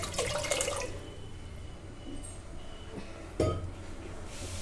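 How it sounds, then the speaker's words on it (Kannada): Water pours into a pressure cooker in a home kitchen, a steady watery rush with a few metallic clinks and one sharper knock near the end, fairly close and with no voices. "ಕುಕ್ಕರಿಗೆ ನಾನು ನೀರು ಹಾಕಿ"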